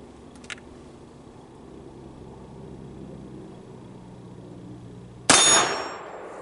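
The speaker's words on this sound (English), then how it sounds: "They make a pretty good ding when we hit them." A .22 WMR Keystone Crickett rifle bullet strikes a steel target outdoors with a single sharp, bright metallic clang that rings and decays over about a second, following quiet background and a faint earlier tick.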